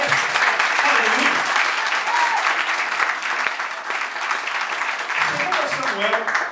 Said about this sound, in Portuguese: aplauda ao Senhor Jesus. Aplauda Ele.